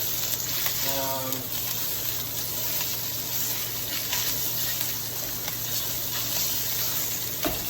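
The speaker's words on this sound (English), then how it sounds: "You want to go ahead and break the sausage up in the pan." Sausage sizzles in a pan while being broken up and crumbled for an Italian American pasta bake, a steady, fairly soft frying hiss with light scraping and stirring running throughout, close by.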